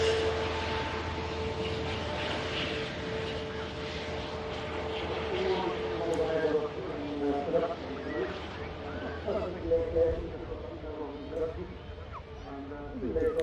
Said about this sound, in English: Our next arrival has just touched down from Toronto. Transat A321 Neo.